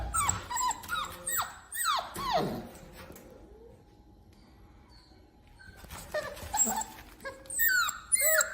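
Several dogs in an outdoor dog yard bark and yelp in rapid bursts close by, a short lull, then the barking picks back up, with some whining and growling mixed in.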